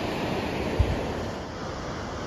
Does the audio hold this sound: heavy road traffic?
no